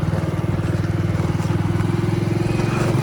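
Motorcycle engine running steadily while riding out on a town errand in India, a continuous close, loud low putter with a fast regular pulse throughout.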